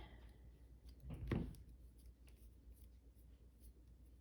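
Scissors trim the ends of paper in a papercraft project: one short crisp snip-and-rub burst stands out near the start, then the rest goes quiet with only faint handling noise.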